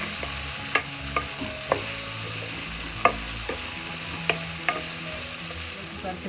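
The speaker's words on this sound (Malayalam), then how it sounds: "ഇനി ബീൻസും പൊട്ടറ്റോയും കൂടെ ചേർക്കാം. എല്ലാം കൂടെ നന്നായി വഴറ്റാം." Green peas, beans and potato sautéing for vegetable pulao, with a steady close sizzle and periodic sharp clicks of a spoon stirring against the pan.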